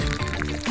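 A short burst of water glugging and pouring out of a bottle, close and steady.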